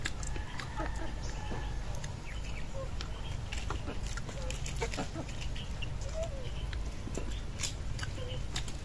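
Chickens cluck and call in a busy outdoor farmyard, scattered short clucks over a constant low rumble of background noise.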